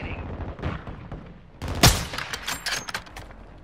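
Heavy video game gunfire in a team deathmatch, with scattered shots and then one sharp, loud blast followed by rapid bursts of fire that keep going.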